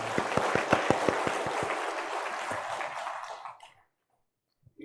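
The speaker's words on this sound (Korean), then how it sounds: "오늘 함께하는 교회학교 학생들을 위해서 우리 축복의 박수를 부탁합니다." A church congregation at Sunday worship applauds the church school students, opening with a few distinct near claps before swelling into full applause that dies away into silence.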